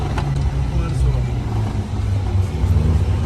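A Mitsubishi 4x4 mini truck's engine rumbles low and steady nearby, then seems to falter and die, with people talking over it.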